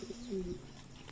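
Racing pigeons at a pigeon farm in Sonamasjid give a soft, low cooing call lasting about half a second, faint and close, with quiet background around it.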